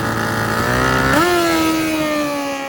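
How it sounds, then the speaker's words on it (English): An old-school Kawasaki ZX7 drag racing motorcycle revs hard and high at a drag strip, its loud tonal engine note climbing sharply then holding a steady high pitch as it pulls away, with no talk. "There goes the high revving old school Kawasaki ZX7."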